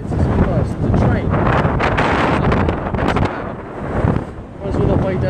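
Wind buffets the microphone on the Brighton seafront, a loud, steady rumbling roar with gusts that swell and dip throughout, while a voice talks intermittently beneath it.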